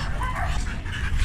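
A Malinois dog at a kennel in Morocco whimpers and gives short high yips, close and fairly loud, with a hint of background voices.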